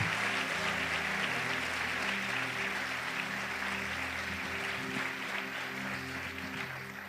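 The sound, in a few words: audience applause in church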